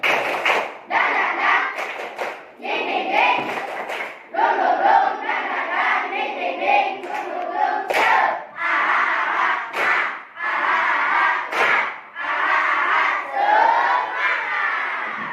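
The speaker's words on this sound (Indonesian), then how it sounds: "Tepuk semangat dan dingdung." A classroom of schoolchildren performs the 'tepuk semangat' clapping chant, shouting in unison with rhythmic claps and thumps; loud, continuous group chanting and yelling throughout.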